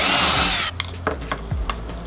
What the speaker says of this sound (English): So the first thing I want to do is actually drill the hole.